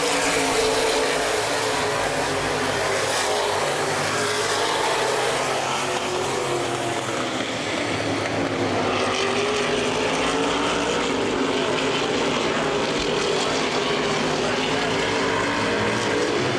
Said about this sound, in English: Pete Wormcastle closing in quickly on Jonathan Martin for the race lead